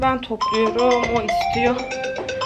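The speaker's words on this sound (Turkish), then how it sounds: "Telefon çalıyor." A phone rings at home with a bright, repeating ringtone melody that runs throughout, partly under a person talking nearby.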